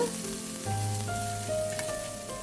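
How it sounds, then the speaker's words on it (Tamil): Paneer pieces fry in oil in an iron pan, a steady close sizzle and crackle running throughout with a low hum beneath, no voices. "இந்த பன்னீர் பீஸ் எல்லாத்தையுமே நம்ம கோல்டன் ப்ரௌன் கலர் அளவுக்கு நம்ம ஃப்ரை பண்ணி எடுத்துக்க போகிறோங்க."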